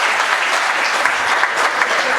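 Sustained audience applause at a Hindi comic poetry gathering (hasya kavi sammelan), a dense even clatter of many hands clapping steadily throughout with no break.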